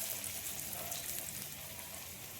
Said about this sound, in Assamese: তেলখিনি গৰম হোৱাৰ পিছত ফ্লেমটো ল' ফ্লেমত ভাজিব লাগিব।